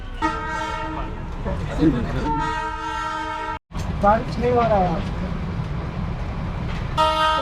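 Darjeeling Himalayan toy train on the UNESCO heritage line pulling out in rain and cold at about 7,407 feet, its long horn tooting in repeated steady blasts alongside running-train noise, with people talking between the toots.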